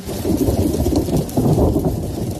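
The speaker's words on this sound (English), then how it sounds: "That is sleet, ice pellets you hear falling during a winter storm warning in Tulsa on Monday" Sleet and ice pellets pour down steadily during a winter storm in Tulsa, Oklahoma, a loud dense hiss with low rumbling thunder rolling beneath it throughout.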